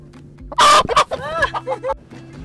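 A chicken gives a sudden loud squawk, then a few clucks and softer murmuring calls nearby in an outdoor garden setting.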